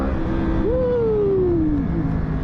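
A Yamaha R1 1000cc motorcycle engine revs up sharply during a small wheelie, then settles back down. The engine note is close and loud under steady wind noise, with no talking.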